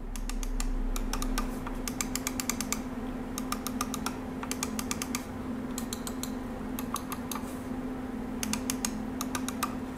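Clicks from a Roccat Burst Pro gaming mouse with Titan switches come in quick, crisp clusters of several presses, separated by short pauses, close and fairly quiet over a steady low hum.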